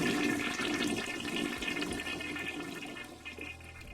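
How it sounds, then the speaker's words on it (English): Running shower in the Steins;Gate visual novel, a steady rush of water close by that slowly thins out, alone with no talk. "I jump at the sound of a running shower"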